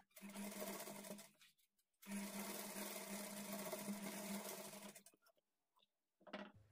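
A sewing machine stitches a lining blouse at a quarter-inch margin, running in two close, steady bursts with a pause between them, then a brief restart at the end.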